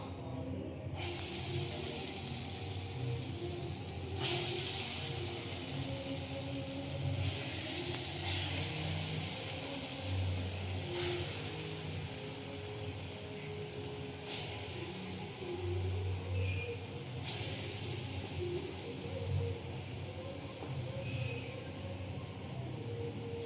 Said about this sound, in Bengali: তো এটা মটর ডাল বাটা হয়ে গেছে, দিয়ে এবার বড়াগুলো ভাজছি।